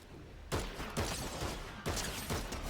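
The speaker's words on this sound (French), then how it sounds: "Oh, ça me tire dessus." Gunfire in a superhero-themed video game, heard as several loud bursts of shots in close succession with broad crackling blasts, fired at the player's character.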